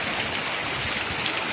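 Flood rainwater pours from a street into a garage during a storm in Manaus, a dense, continuous rushing of falling water, loud and close.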